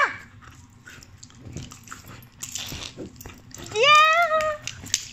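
A dog playfully biting and mouthing, with soft chewing and shuffling noises close by and a brief whining, yelping vocal burst toward the end.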